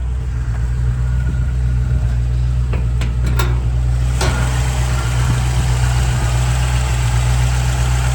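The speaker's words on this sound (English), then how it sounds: "Nice V8 rumble, no smoke. Nice little rumble to the exhaust." A 1959 Rambler Rebel's V8 engine idles with a steady, low rumble continuously nearby, with a couple of faint clicks partway through and no voices.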